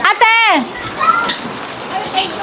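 Steady rain falls throughout at a street gathering, a broad constant patter with a voice briefly calling out at the start and faint chatter behind it.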